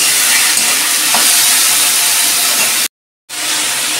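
Turmeric and salt fry in hot oil in a pan, giving a loud, close, continuous sizzling hiss that holds steady, drops out briefly near the end, then resumes at the same level with no talking.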